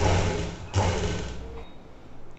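A sewing machine stitches piping onto a fabric designer patch, a short close whirring run that tapers off into quieter mechanical hum.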